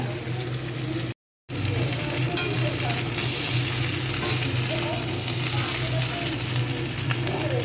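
Chicken pieces added to ginger-garlic paste, onion and capsicum sizzle and are stirred in a hot pan for chilli chicken, a loud, continuous crackling fry with scraping stirs, briefly cut out near the start.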